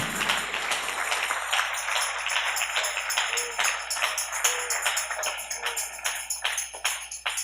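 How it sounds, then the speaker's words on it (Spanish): A church congregation applauding, with dense sustained clapping that fills the room steadily and thins slightly toward the end. "Dele ese aplauso al Rey con todo su corazón."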